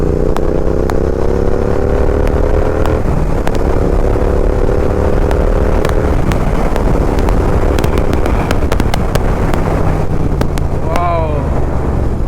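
An Interceptor 650 motorcycle, converted to GT 650 form, is ridden at a steady pace, its engine a continuous droning hum with shifting pitch, heavily buffeted by wind noise and occasional sharp clicks.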